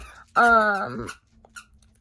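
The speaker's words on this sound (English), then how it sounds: "I'm sorry for the dog in the background squeaking everything." A dog squeaks once in the background indoors, a short, loud, harmonic whine lasting under a second, followed by faint shuffling.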